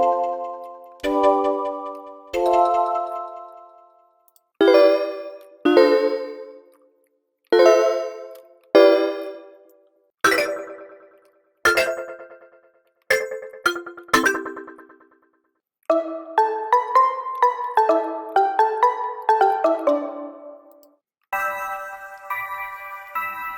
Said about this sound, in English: Let's hear what some of these bells sound like.